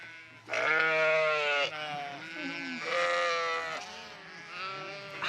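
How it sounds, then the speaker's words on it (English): Milking ewes and lambs on a sheep farm bleat loudly in a chorus of overlapping, wavering calls, several animals close by, with no talk over them. "over there we have all the lambs and ewes that we're milking right now"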